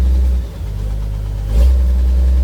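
A Komatsu PC200 excavator, started after sitting unused for a long time, runs its diesel engine loud and close with a deep rumble. It dips briefly, then rises as the throttle is opened.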